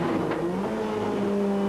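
A 1988 BTCC touring race car's engine drones loud and close from onboard as the driver changes down a gear, its steady tone shifting briefly before holding on.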